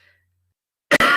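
A person coughs twice in quick succession, loud and close, after near silence, during a fit of coughing.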